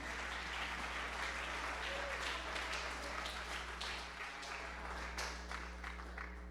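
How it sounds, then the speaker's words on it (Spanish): A large church congregation claps steadily and continuously during worship, a broad wash of applause with some voices mixed in. "Dele fuerte el aplauso al Señor"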